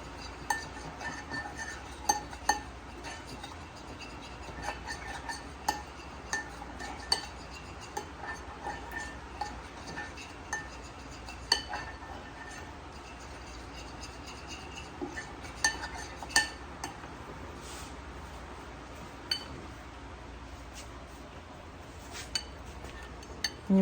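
Dressing ingredients get mixed together in a dish, a quiet string of irregular utensil clinks and taps against the bowl over a faint background hum.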